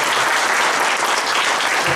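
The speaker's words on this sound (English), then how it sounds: "big round of applause, please." An audience at a management institute's inaugural and orientation ceremony applauds a new faculty member, a steady dense wash of clapping throughout.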